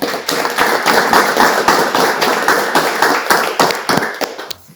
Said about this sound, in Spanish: te recibimos con un fuerte aplauso